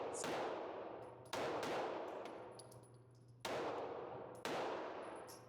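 Four sharp, loud gunshots from old Federal ammunition at an outdoor shooting range, each crack ringing out with a long decaying echo, spaced irregularly about one to two seconds apart.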